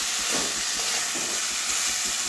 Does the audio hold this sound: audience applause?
no